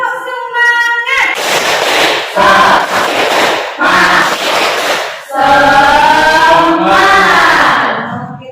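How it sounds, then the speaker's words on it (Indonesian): Students in a classroom do a rhythmic spirit clap (tepuk semangat), with loud bursts of group clapping mixed with shouted chanting voices in a patterned beat. "Siap untuk tepuk semangat? Ya. Oke, tepuk semangat."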